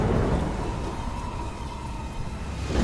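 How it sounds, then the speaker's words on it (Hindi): Rolling thunder over steady, heavy rain in a Hindi cartoon story, a dense continuous wash of noise with a deep rumble underneath, loud throughout with no voices. "बिजली चमकती है, जोरदार बारिश शुरू हो जाती है।"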